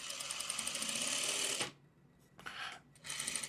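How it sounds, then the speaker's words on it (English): Home sewing machine stitching a quarter-inch seam through fabric scraps on a quilting project, a dense steady whir that stops abruptly, then restarts in two short bursts, close and fairly quiet with no talk. "the machine pull the fabrics together and just kind of making that 1/4 inch, or trying my best to keep a 1/4 inch seam"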